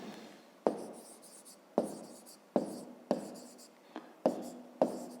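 Pencil or pen writing numbers on paper for a fifth-grade maths exercise, close and quiet, a run of scratchy strokes broken by about seven sharp taps at roughly even intervals, with a faint whisper in the background.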